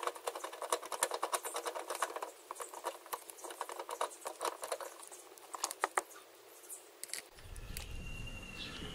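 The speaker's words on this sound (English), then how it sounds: "So use your ratchet with a 12mm socket and extension." Ratchet with a 12mm socket and extension loosening headlight bolts, a fast close clicking patter for several seconds, then a lower rumble.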